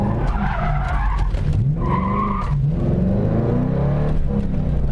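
A rear-wheel-drive manual car skids through a U-turn, tires squealing loudly and wavering in pitch over the engine's revving, close by and continuous with no talk.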